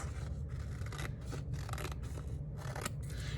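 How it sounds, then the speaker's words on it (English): Scissors snipping carefully around a paper leaf shape, a close, steady run of short rasping cuts in uneven bursts with brief pauses between strokes. "So I am just very carefully cutting all the way around."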